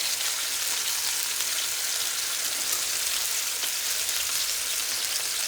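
Chicken pieces browning in a well-heated pan on a large, powerful burner, a loud, dense, unbroken sizzle like heavy rain that holds evenly from start to finish with no voices.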